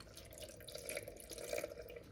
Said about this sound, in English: Now we're gonna add some of the liquid.